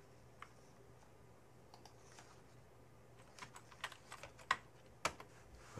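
Someone types a username on a Mac keyboard, producing sparse, light key clicks that start hesitantly and then come in a quicker burst, close but quiet against a low background hum.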